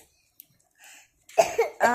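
A young child gives a few close coughs in quick succession after a quiet stretch, with faint rustling beforehand.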